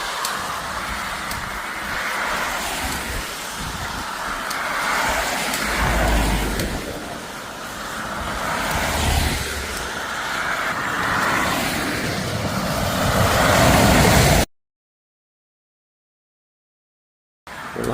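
Road traffic passes on a roadside by the Camino de Santiago between Boente, Melide and A Rúa, a continuous moderately near whoosh of cars swelling and fading in turn, then abrupt silence before a brief return.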